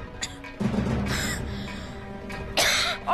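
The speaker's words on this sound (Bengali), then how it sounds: "ওকে, কাশি কেন?" A person coughs in several short, harsh bursts close by, with brief pauses between the fits.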